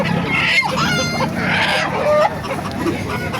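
A rooster crows loudly and close by, with other chickens clucking around it at a busy poultry market in Baliuag, Bulacan.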